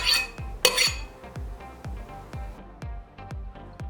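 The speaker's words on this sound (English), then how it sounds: "Now you want to just roughly chop your vegetables." Vegetables being roughly chopped with a knife on a cutting board, a steady series of about a dozen crisp knocks at an even, brisk rhythm, close and fairly quiet, opening with a couple of louder clattering hits.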